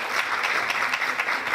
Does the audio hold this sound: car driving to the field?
no